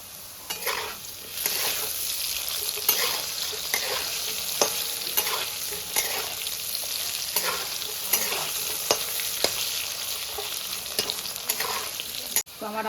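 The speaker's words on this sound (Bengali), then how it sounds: "আমার আলুগুলো ভাজা হয়ে গেছে," Potatoes frying in a pan with turmeric and salt, a steady close sizzle with repeated scrapes and clicks of stirring throughout, with no talking.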